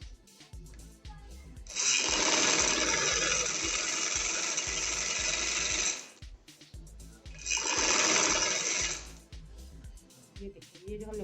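Sewing machine stitching an angrakha shirt, two loud, steady whirring runs of a few seconds each separated by a pause, with quiet handling noises around them.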